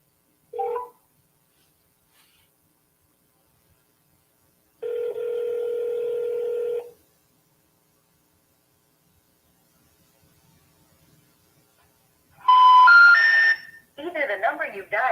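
A telephone call being placed, with a short tonal burst near the start, a steady dial tone lasting about two seconds, then a quick sequence of dialing tones followed by a rising, warbling electronic signal, all in otherwise quiet surroundings.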